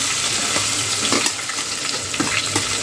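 Garlic and onion frying in a pan for a spicy home-style chicken dish, a loud, close, continuous sizzle with crackling pops and occasional stirring scrapes.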